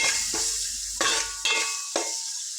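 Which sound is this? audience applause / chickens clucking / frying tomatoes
frying tomatoes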